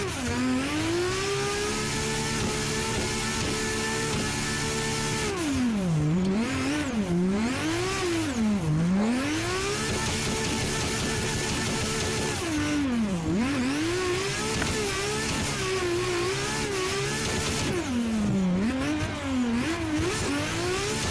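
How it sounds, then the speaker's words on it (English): A car engine revs hard in third gear and climbs in pitch, dipping briefly between surges, loud and continuous from start to finish. "A little third gear pull."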